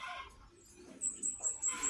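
A plump young alimukon chick, a dove-like bird, calls softly with a few short, high chirps near the end, following faint rustling.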